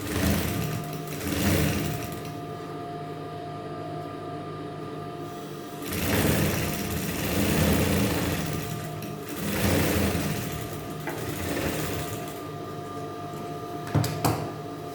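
A sewing machine stitches trouser pieces together, its steady whirring running in several bursts with brief slowdowns between them, close and alone without talk.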